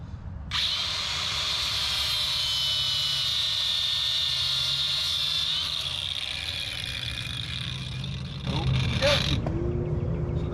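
An angle grinder cuts steady and loud through a line during a turbo swap on a Cummins truck, a continuous high whine holding for about eight seconds before winding down with a brief clatter.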